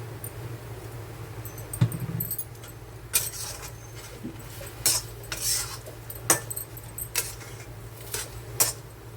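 A metal spatula stirs spiced yam frying in a pan. Sharp clinks and scrapes come at irregular intervals over a low background hum, with only a faint sizzle.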